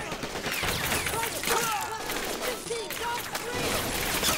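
Gunfire from the Men of War strategy game, a dense fusillade of rifle and machine-gun bursts with scattered shots and whistles, sustained and fairly loud throughout, no talking over it.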